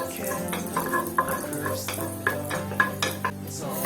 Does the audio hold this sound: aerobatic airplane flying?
no